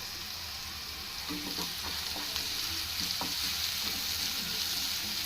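Onions and curry leaves fry in a pan for a bean and tomato curry, with a soft, continuous sizzle and a few faint stirring scrapes near the middle.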